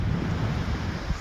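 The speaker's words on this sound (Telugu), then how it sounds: "ఇవాళ సముద్రం దగ్గరకు వచ్చాము" Sea waves roll in at a beach, a steady low wash of surf with wind rumble across the microphone, fairly loud and continuous with no voices.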